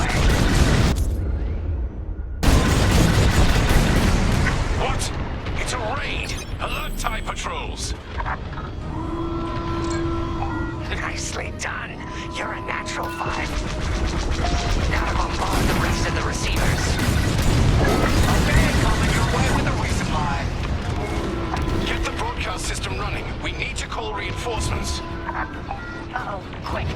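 Bombs burst against a space station in Star Wars Squadrons, with deep booms and crashing impacts layered under steady radio chatter and engine hum across a long, dense battle stretch.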